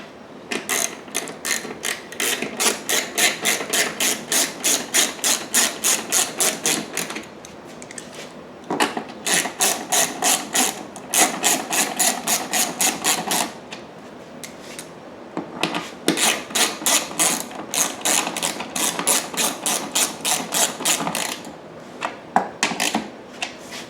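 Bolts fastened into the bottom of a Predator 3500 generator give off rapid rasping ratchet-like clicking in repeated bursts, each run lasting several seconds with short pauses between, close and fairly loud with no talking.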